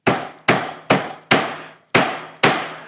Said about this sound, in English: push it with pressure rather than with strikes of a hammer